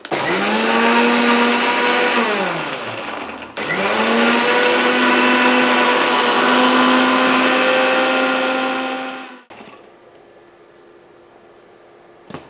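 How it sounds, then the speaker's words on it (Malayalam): A kitchen mixer blender whirs loudly blending a watermelon shake with honey and milk, running in two long bursts with a brief pause between, then cutting off into quiet. "അപ്പോൾ നമുക്ക് മിക്സിയിൽ ഇത് ബ്ലെൻഡ് ചെയ്തെടുക്കാം."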